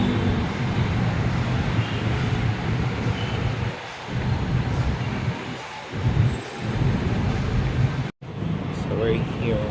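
An LRT-1 light-rail train at Recto station in Manila rumbles in a steady, low roar through the station, the noise dipping and swelling, with brief breaks in the sound.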